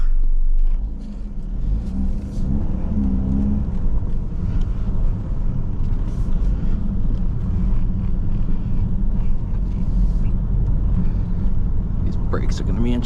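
A 2014 Dodge Dart GT's 2.4-liter turbo four-cylinder hums steadily under acceleration from inside the cabin, with road and wind noise and someone talking over it.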